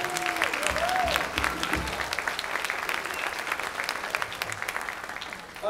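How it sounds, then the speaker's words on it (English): Steady applause from a school spring concert audience for a seventh grade band fills the clip, a dense wash of clapping that holds strong and fades slightly toward the end. "Applause for your seventh grade band."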